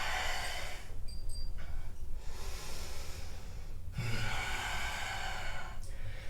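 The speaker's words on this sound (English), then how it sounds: "5 nice deep breaths." Deep, slow breathing during a vinyasa yoga flow, with long, airy inhales and exhales that are close and fairly loud, separated by short breaks, and no talking over them.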